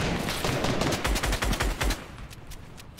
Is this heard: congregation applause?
no